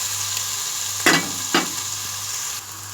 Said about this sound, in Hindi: अब अदरक लहसुन के पेस्ट को हम भूनेंगे।